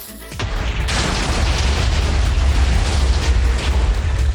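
A huge chain of TNT blocks detonating in Minecraft, over a hundred charges going off in an underground mine: one sudden loud blast swells into a sustained, dense rumbling roar of overlapping explosions that keeps going to the end.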